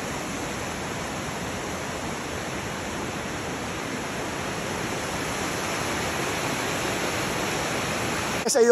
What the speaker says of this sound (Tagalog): Kita nyo naman yung daloy ng ilog.